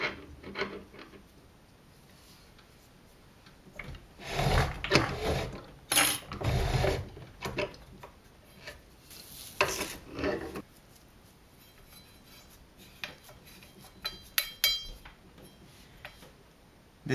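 A hand-cranked grain mill grinds nixtamalized field corn into masa with the tension increased, giving irregular bursts of grinding and clicking crank noise separated by quiet pauses, close up.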